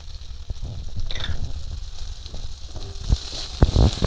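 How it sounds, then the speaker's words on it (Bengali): Onions sizzle and crackle in hot oil, close up, with occasional sharp knocks of stirring near the end. "পেঁয়াজটা একটু ব্রাউন কালার করেই ভেজে নেব"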